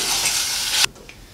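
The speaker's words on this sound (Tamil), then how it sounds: "இந்த prawn சீக்கிரமா வெந்துரும்ன்றதுனால அப்பப்போ திருப்பி போட்டுட்டே இருக்கணும் நாம." Garlic prawns fry in a pan, a loud, bright sizzle that cuts off abruptly partway through as they are flipped, leaving a quieter hiss.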